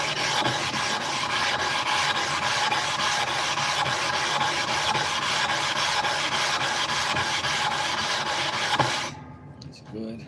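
Continuous rasping scrape of a 1000-grit sharpening stone being rubbed flat against a flattening stone, loud and steady for about nine seconds before stopping abruptly into near quiet.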